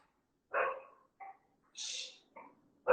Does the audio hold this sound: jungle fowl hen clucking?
no